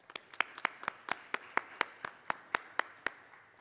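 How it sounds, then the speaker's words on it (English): A small audience claps in brief, steady applause for event sponsors at an education celebration at Lexington High School, sharp separate claps in a quick rhythm, fairly quiet and not dense. "let's give a final round of applause to all of our event sponsors this year"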